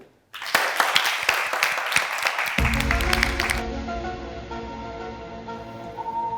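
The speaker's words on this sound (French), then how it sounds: "je voudrais qu'on applaudisse très fort pour mademoiselle Sonia" A studio audience claps steadily for a first-time guest on a French café-style entertainment show, a dense burst of applause that fades as music with sustained tones takes over.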